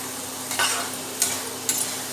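Meal maker soy chunks roasting in a frying pan, with a steady close sizzle and three distinct stirring scrapes spaced apart, alone without any voices.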